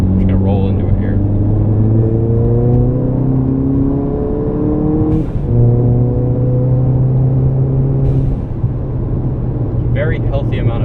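A 320 hp Volkswagen Golf GTI hot hatch accelerating, heard from inside as a loud engine drone climbing steadily in pitch, dropping back at two gear changes and rising again.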